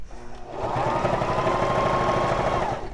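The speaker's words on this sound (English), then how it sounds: "I'll just start stitching and then do a back stitch and then continue stitching" A Baby Lock Zest sewing machine stitches through laminated oilcloth fabric for a baby bib. It gives a steady, rapid mechanical whir with a fast needle rhythm that runs continuously for a couple of seconds, close and fairly loud, with no talking.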